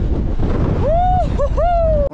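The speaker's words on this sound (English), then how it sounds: "Man, it is windy." Rough, roaring storm wind on a summer hike buffets the microphone throughout, loud and close, while a high-pitched whine or whistle rises and falls over it.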